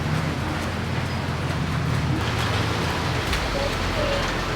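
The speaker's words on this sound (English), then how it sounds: "it's just started to rain in El Nido" Steady rain falls during the wet season in El Nido, a dense even hiss of drops on surfaces filling the background with a low rumble underneath.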